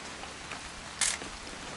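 Rain falls in the video game What Remains of Edith Finch as a soft, steady hiss and patter, with one brief sharper splash or gust midway and no voices.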